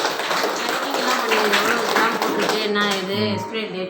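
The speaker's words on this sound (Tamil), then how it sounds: "கைத்தட்டுங்க அம்மாவுக்கு, நல்லா கைத்தட்டுங்க." At a farmers' training session on dairy and agro processing, the audience claps in a dense, moderately loud patter for a few seconds, with faint voices and a short tonal sound near the end.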